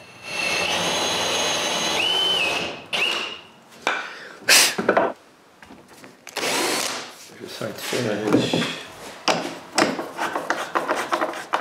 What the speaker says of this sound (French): aligner ma mèche et percer un trou pour un insert de métal